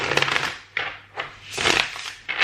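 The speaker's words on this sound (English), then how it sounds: "Bear with me with the deck and the shuffling, okay? It's a brand new deck" A brand-new, stiff tarot deck is shuffled in several close bursts of riffling and rustling card noise, separated by short pauses.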